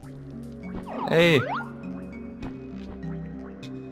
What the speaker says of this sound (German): Hier wird doch das Wasser abgelassen, oder?